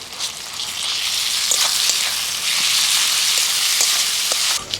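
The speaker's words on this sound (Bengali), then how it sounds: "রসুন বাটা দিয়ে একটু নেড়ে ছেড়ে নিলাম" Garlic paste fries in a pan at an outdoor village picnic cookout, producing a loud, continuous crackling sizzle with light scraping as it is stirred, ending abruptly.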